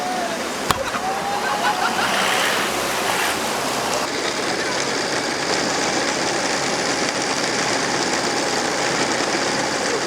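Floodwater flowing through a flooded area where houses and cars sit submerged, a steady broad rushing wash with a sharp knock early on.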